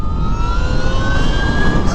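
Energica EsseEsse9+ electric motorcycle (2023) under way on a bumpy California road, a steady high-pitched electric motor whine rising slightly in pitch over continuous loud wind and road rush, with no voices.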